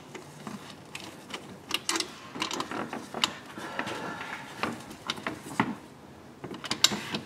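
Throttle body bolts on a 2004-2009 Toyota Prius are snugged up by hand, giving close, quiet ratcheting clicks and small metallic taps in irregular bursts, with no speech.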